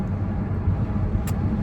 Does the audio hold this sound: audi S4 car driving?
yes